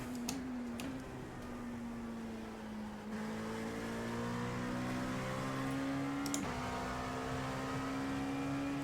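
An LMP2 prototype race car engine drones loudly from inside the cockpit, holding a steady pitch and then climbing smoothly as the car accelerates along the track, with a couple of sharp clicks.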